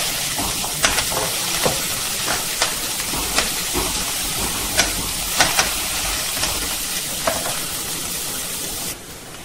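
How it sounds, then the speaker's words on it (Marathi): Chopped onion and bay leaf fry in a hot pan for spiced vegetable rice, giving a steady close sizzling hiss broken by scattered light taps of stirring, and the hiss cuts off near the end. "कांदा छान झाला आहे परतून।"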